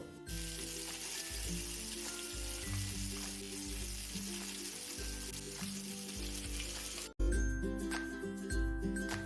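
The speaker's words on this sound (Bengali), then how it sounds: "তেলটা গরম হয়ে গেলে অল্প করে কালো জিরে একটা শুকনো লঙ্কা ফোড়ন দিয়ে দেবো" Black cumin and a dried red chilli tempering in hot mustard oil in a frying pan, giving a steady close sizzle with a brief drop near the end, then louder crackling.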